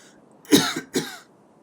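Two short, sharp coughs close by, one right after the other, in an otherwise quiet room.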